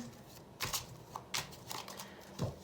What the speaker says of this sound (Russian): Пока я тасую карты